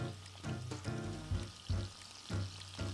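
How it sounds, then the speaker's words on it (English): Shrimp sizzle in a hot skillet, with a few soft scraping or stirring sounds breaking through at intervals, close by and moderately loud. "that sound of something sizzling in your skillet"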